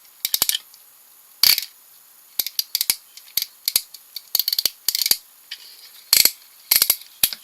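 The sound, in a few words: broken ratchet in Transformers Generations Roadbuster toy arm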